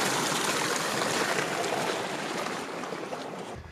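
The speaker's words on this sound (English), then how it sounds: "I'm dropping down to a creek" A creek flows beside a hiking trail on the Colorado Trail, its steady, close water rush filling the clip with no talking, easing off slightly toward the end.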